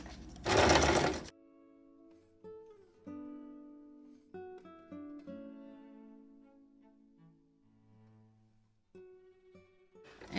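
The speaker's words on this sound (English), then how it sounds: "And just sew over the top." A sewing machine stitches a fabric snippet roll in short, quiet runs of rapid mechanical whirring, stopping and starting several times, with a louder rustle of fabric at the start.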